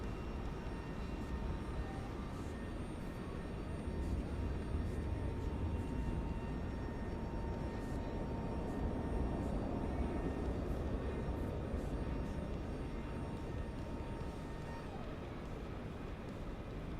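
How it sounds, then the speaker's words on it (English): An airplane flies overhead in Microsoft Flight Simulator 2024, a steady broadband roar that holds at an even level throughout, with no talking. "Heard a plane."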